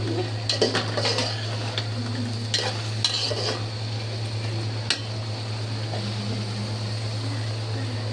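Leafy Malabar spinach greens go into a cooking pot with shrimp and are stirred. A utensil clinks and scrapes near and loud in short bursts over a soft, steady sizzle and a low background hum, with no one speaking.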